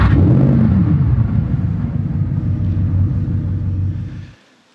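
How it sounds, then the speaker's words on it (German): Sports car engine starting with a turn of the key, a loud cranking burst that settles into a deep, steady rumbling idle before cutting off abruptly. "Wenn er da den Schlüssel umdreht, klingt das so."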